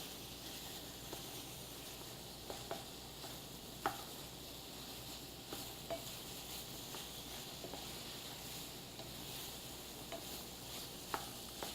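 A pound of ordinary breakfast sausage browns in a pan with a quiet, steady sizzle and occasional light clicks and scrapes from a utensil, low in level throughout.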